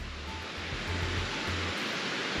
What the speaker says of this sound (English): The problem is, I'm right at the falls. I mean, the falls are right there.